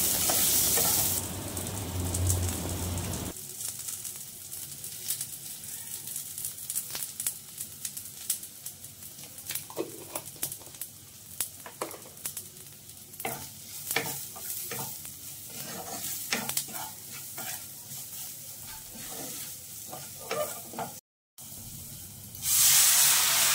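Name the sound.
frying masoor dal with onions in a pan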